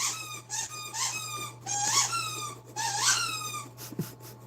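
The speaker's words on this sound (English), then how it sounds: "you guys hear it. It's Ziggy with his squeaky toy" Ziggy the dog squeaks a squeaky toy three times in a row, each bright, wheezy squeal lasting under a second, moderately close over a steady low background hum.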